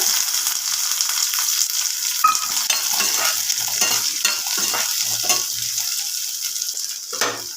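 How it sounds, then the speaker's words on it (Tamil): Small shallots sauté with garlic and dried red chillies in a pan, giving a loud, continuous hissing sizzle with occasional stirring scrapes, close and steady, with no voices. "இப்போ நம்ம சின்ன வெங்காயம் ஆட் பண்ணிக்கலாங்க"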